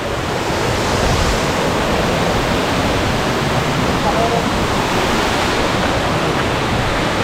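Continuous roar of Pampanal waterfall in Kottayam, a broad wash of rushing water somewhat less close, with faint voices blended into the steady noise.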